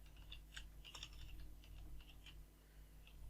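Quick, light keystrokes on a computer keyboard come in soft scattered bursts of clicks, fairly faint and close, with no talking.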